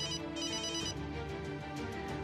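A mobile phone ringtone rings loudly and steadily late at night in a home, a bright repeating melody with no talk over it.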